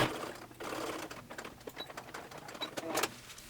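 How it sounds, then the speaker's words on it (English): Sewing machine stitching the sleeve of a bridal robe, a quiet uneven whirring run with light mechanical ticks, close up and fairly faint, ending in a short backstitch burst. "I want to make sure I stop sewing right at the peak of the stitching from the sides here, and I'll do a little back stitch there"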